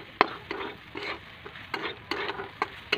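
Pasta with turmeric being stirred in a pan, a series of close spoon scrapes and taps against the pan at an uneven rhythm over a faint sizzle.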